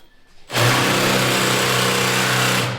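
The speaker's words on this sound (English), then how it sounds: "Let's drill those out." A power drill starts abruptly and runs at a steady, loud whine, drilling out bolts on a vehicle frame being stripped for powder coating, then trails off near the end.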